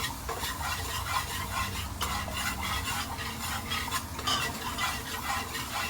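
Garlic fries in a pot for a Trinidad-style banana or fig talkari, a steady sizzle with a spoon stirring and scraping against the metal, close and continuous with no talking.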